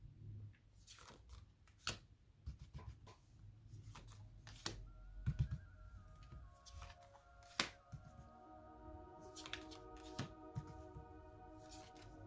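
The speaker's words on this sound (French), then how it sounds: "on y va, on pose les cartes." Tarot cards shuffled and laid out on a surface, soft riffling and scattered light taps and slides at low volume, with quiet background tones and no talk.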